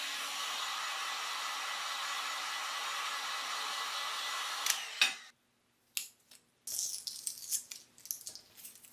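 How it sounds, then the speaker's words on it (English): A hair dryer blows hot air onto wooden side tables to loosen price tags, a loud steady whooshing hum for about five seconds, then switching off into brief handling noises and rustling. "If you don't have a heat gun, a hair blower or hair dryer works just as well."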